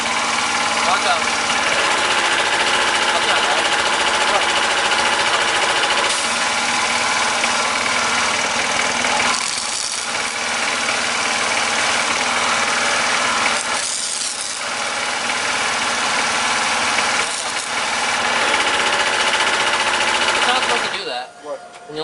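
A rebuilt Briggs & Stratton Quantum small engine runs loud and close for the full stretch. Its steady buzzing drone dips several times as the load comes on and picks back up when released, then cuts out abruptly at the end.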